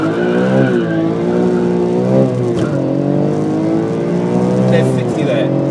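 BMW E46 M3 with SMG gearbox, traction control off, launching hard from a standstill to 60 with wheelspin, engine revving loud and close through rising pitch sweeps and quick shifts, tires squealing, with a voice over it.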